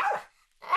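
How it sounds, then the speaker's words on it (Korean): A pet dog barks twice, sharp and close, with a short silent gap between them, in a home where it barks whenever the baby cries. "더구나 아기 머리 맡이나 발끝에 와서 짖어대니 더 위협적으로 보이는데요."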